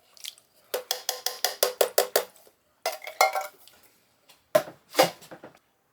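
A 14.5-ounce can of diced tomatoes is emptied into a pot of beans. Close, rapid metallic scrapes and clanks come in quick bursts, then pause, then come in a few more bursts.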